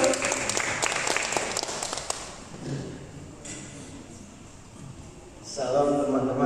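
An audience at a church service applauds, a burst of clapping that starts strong and then fades. A brief swell of clapping or noise returns at the end.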